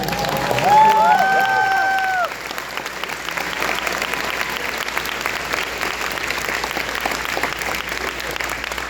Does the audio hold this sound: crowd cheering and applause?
yes